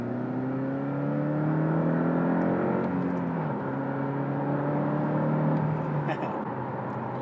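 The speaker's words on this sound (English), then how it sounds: "I mentioned this is a flat-4 turbocharged engine." A Porsche 718 Cayman T's flat-four turbocharged engine hums and builds steadily under load in sport mode, its tone rising and dropping through gear changes, heard from inside the car on a public road.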